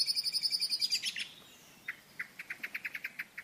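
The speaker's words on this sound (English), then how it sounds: "many birds have a few preset calls, such as a call to congregate or a danger cry" A series of short, sharp bird calls repeated in a quick rhythm, close and clear, with a brief pause midway before a second run of evenly spaced chirps.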